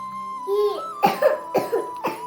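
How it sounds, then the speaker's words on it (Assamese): A person eating a hot egg coughs in several sharp, close bursts, roughly four harsh coughs in quick succession after a short breathy lead-in. "কাহে ধৰি গৈছেগৈ"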